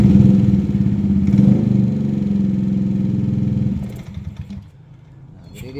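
A Yamaha NMAX new scooter with a fault that makes it sputter, lose power and stall runs with a steady, close engine drone for about four seconds, then drops to a quieter, rougher, uneven idle.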